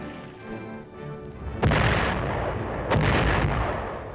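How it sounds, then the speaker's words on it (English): Mortar fire in a 1950 military film: two heavy, close blasts about a second apart, each breaking into a loud, rumbling roar over a low background hum, with no voices. "Mortar fire is one of the infantryman's greatest enemies."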